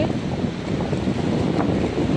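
Wind and surf where the Vaigai River meets the sea near Ramanathapuram: a continuous, loud wash of waves and gusting air buffeting the microphone, with no voices.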